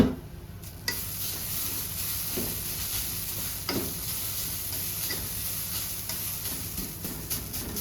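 Grated coconut with turmeric powder sizzles in a pan while a spatula stirs it, producing a steady, close frying hiss broken by occasional scraping knocks and no speech.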